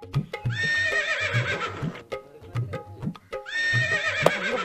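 A horse neighing as a sound effect: two loud, shrill whinnies with trilling pitch, separated by a pause and accompanied by close hollow clip-clop hoofbeats.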